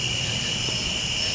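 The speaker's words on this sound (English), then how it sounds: "Crickets and all kinds of other bugs making all kinds of noise." Crickets and other insects chirp steadily in the woods, a dense continuous high-pitched drone with no pauses, fairly close and alone without talk.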